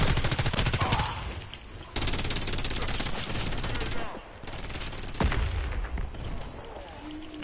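Rapid automatic gunfire in the online shooter Warface crackles in long, loud bursts, broken by short pauses, with a dense mix of rattling shots and background game noise throughout.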